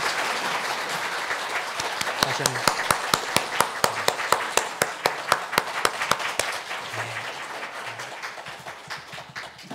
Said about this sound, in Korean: 우리 뜨겁게 박수로 축하하겠습니다